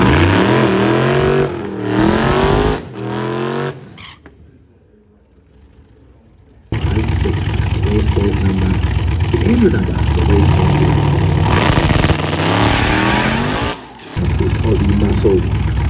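A drag car's engine roars and revs hard, loud and close, with a brief quiet gap partway through before the rough, sustained engine noise returns and carries on to the end.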